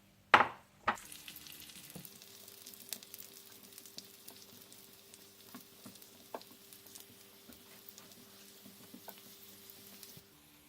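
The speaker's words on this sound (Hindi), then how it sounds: "और इसी दौरान आप देसी घी गरम करके इसमें किशमिश फ्राई करके निकाल लीजिए" Raisins frying in hot desi ghee: a sharp clatter as they go in, then a steady, quiet sizzle with small pops and stirring sounds that continues for about ten seconds, with no talking.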